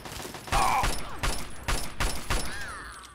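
Five evenly spaced gunshots from a weapon in Fallout 3, each a sharp crack with a short ringing tail, fairly close, with faint game ambience between shots.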